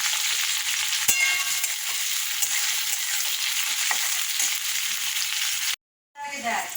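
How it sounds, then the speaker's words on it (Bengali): Onion frying in oil with dried red chilli and nigella seeds in a wok, a steady close sizzle with faint stirring clicks that cuts out abruptly near the end before resuming. "দেখো পেঁয়াজটা ভাজা ভাজা হয়ে গেছে"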